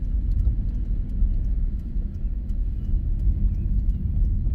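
Inside a car taking a curve, a steady low engine and road rumble holds throughout with no clear change.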